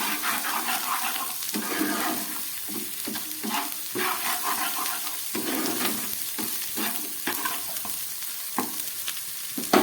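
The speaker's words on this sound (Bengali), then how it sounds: "সব দিয়ে খুব ভালো করে আমি এটাকে ভেজে নিচ্ছি।" Spices, salt and green chilli fry in oil for a light summer fish curry, sizzling loudly and close, with repeated scraping stirs and wet crackles breaking in every second or so, and no voices.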